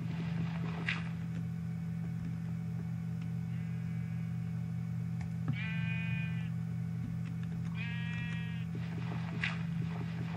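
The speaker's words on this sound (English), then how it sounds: "You can hear the sheep and the grass and shit." Sheep in the video game Minecraft bleat twice in short, quavering cries, each lasting about a second, over a constant low hum with faint background clicks.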